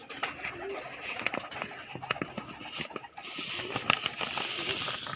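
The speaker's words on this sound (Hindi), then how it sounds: "कबूतर भूखे भी हैं" Soft pigeon coos mixed with light pattering and rustling, close by, continuing steadily without speech.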